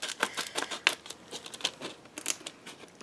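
Scissors snipping through rigid clamshell plastic packaging, a quick run of sharp, close crinkly cuts and crackles with uneven rhythm, no voices.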